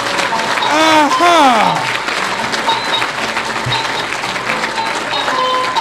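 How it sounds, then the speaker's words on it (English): Audience clapping in a university hall fills the clip with a steady, dense patter, while someone speaks over it with an emphatic exclamation early on. "Can you clap like a good Gambian person?"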